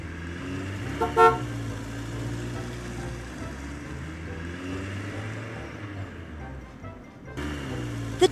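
A toy truck horn toots a couple of times over a steady low engine-like hum, brief and fairly clear, with another short toot near the end.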